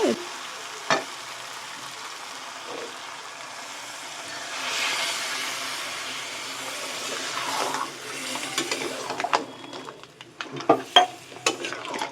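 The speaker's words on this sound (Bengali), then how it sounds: "আমার ভালো করে কষা হয়ে গেছে, এর মধ্যে আমি এবার জল দিয়ে দেব।" Crab curry sizzling and frying in a pan with water poured in, a soft hiss swelling midway, then stirring clinks and scraping of the pan growing busier toward the end.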